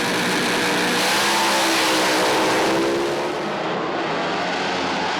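Top Doorslammer drag race cars thunder past at a summer meeting in Darwin, a loud, dense, roaring engine blast that stays strong and then fades slightly as the cars pull away.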